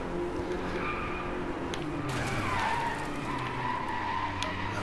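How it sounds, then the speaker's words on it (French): A car drifting in the racing game Driveclub gives a steady, moderately loud tire skid and screech over a continuous engine drone, with no talking. "Voilà, ça c'est du drift."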